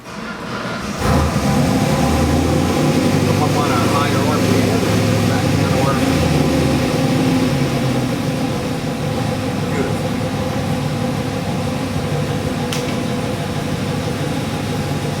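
A car fitted with a 392 cubic inch, 650 hp Hemi crate engine driving down the road, its deep engine drone steady and loud from start to finish with a rumbling low end.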